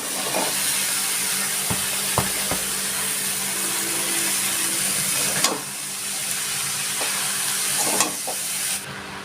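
Snake gourd is added to a hot pan of spiced oil, which gives off a steady loud sizzle and hiss with occasional stirring clicks of a utensil against the pan.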